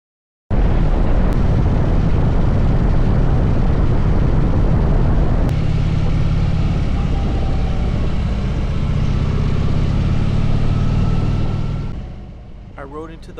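A Harley-Davidson motorcycle cruises steadily down an open highway with highway pegs down and cruise control set, a loud, continuous engine drone and rush of wind that holds level, then fades at the end.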